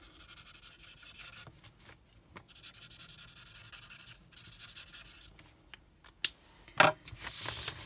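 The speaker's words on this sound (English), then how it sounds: "just drag your colour lifter through it" Soft, close scratchy rubbing of a colour lifter dragged across paper in repeated strokes, ending with a couple of sharper scrapes and crinkles.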